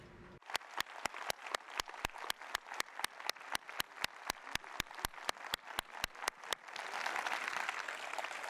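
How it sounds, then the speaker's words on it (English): An audience at the RootedCON 2018 security conference claps in a steady, fast unison rhythm for several seconds, then breaks into loose, sustained general applause that carries on to the end. "and a big round of applause for them."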